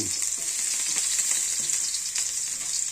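Onions frying in a pan give a steady, dense sizzle, loud and continuous with faint stirring under it.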